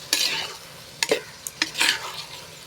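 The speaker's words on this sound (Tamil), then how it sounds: "இந்த கத்திரிக்காயும் முருங்காவும் சேர்த்து நல்லா கிண்டி விட்டுடலாம்" Brinjal and drumsticks stirred in a frying pan: a few scraping stirs with a faint sizzle between them, close by, no voices.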